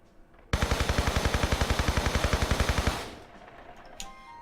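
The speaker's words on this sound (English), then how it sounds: "So I'm just going to go ahead and use a long range weapon for this guy." Automatic gunfire from the Tomb Raider 3 video game: a loud, close burst of evenly spaced rapid shots lasting about two and a half seconds, then a fading tail and quiet.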